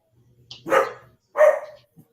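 A dog barks twice, close and loud, each bark a short gruff burst with a brief gap between them, followed by a faint small sound.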